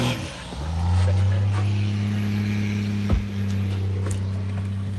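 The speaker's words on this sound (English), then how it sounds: "Little guy in a big truck." A big truck idles and rumbles close by with a steady low engine drone, a brief sharp clank partway through, and faint voices in the background.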